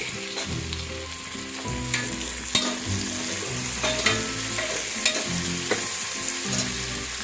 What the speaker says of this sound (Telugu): ఇంకా పది నిమిషాలు ఇవి వేగనివ్వాలండి